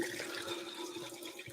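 Faucet water runs steadily into a sink beside an espresso bar, a close, continuous hiss and splash with no talk over it.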